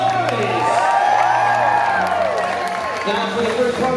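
Theme park audience at a Fear Factor Live show roars and cheers continuously, a loud, dense crowd swell under an amplified voice speaking over it.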